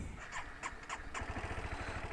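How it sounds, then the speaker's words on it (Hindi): A Honda CBR 250R motorcycle engine starting, with a few short cranking bursts followed by a steady low idling rumble close by. "तो चलो अभी बाइक स्टार्ट करते हैं"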